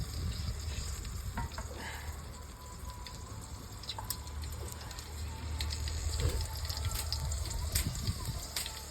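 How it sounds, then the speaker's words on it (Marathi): Masala roasts in a pan over a wood-fired stove, a low steady sizzle with soft stirring scrapes, accompanied by a rumbling fire-like background and faint distant voices. "हा मसाला सगळा आधी भाजून घेत"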